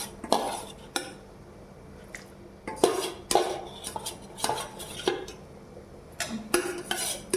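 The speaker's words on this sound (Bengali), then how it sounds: "এবারে দিয়ে দিচ্ছি ভেজে রাখা পনিরগুলো" Fried paneer is tipped into a pan with peas and green chillies for matar paneer, then stirred with a metal spoon. Sharp clanks and scrapes of metal on the pan come in irregular bursts, close by and without any talking.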